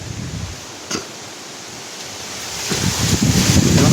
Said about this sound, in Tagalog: Sobrang lakas ng hangin mga tol.